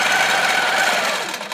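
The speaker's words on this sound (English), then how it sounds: "I'm just going to stitch up until I'm over the first line." A sewing machine stitching along a straight ruler line, a steady, dense mechanical whir heard close and alone, easing off slightly at the end.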